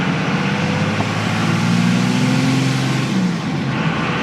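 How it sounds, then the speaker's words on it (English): A 1999 Dodge Cummins diesel truck engine running, a loud steady rumbling drone with a brief rise in revs midway, heard close without voices. "Now we're just going to run this truck here"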